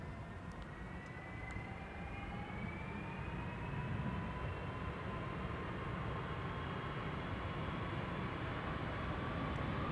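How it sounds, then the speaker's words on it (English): A twin-jet airliner passes at Amsterdam Schiphol Airport with a broad, steady roar and a slowly falling whine, distant but filling the air the whole time, with no talk. "Twin jet is passing south of me"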